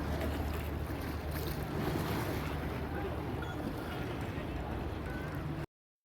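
A tour boat moves under a bridge on the river in Paris, a low, steady engine rumble and water wash heavily blended with constant outdoor wind buffeting, ending abruptly.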